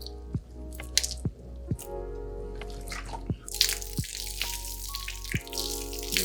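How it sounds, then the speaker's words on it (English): Water drips and squishes from a wet car wash mitt being wrung out, with a steady run of distinct drops falling at a brisk, uneven rhythm, close by and alone with no talking. "Wring it out again."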